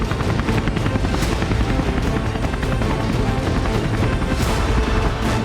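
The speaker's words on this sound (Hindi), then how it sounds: "इजरायली हेलीकॉप्टर ने कई राउंड लगाए।" An Israeli military helicopter flies over Gaza, its rotor thumping loudly and continuously in rapid pulses throughout, with no voices.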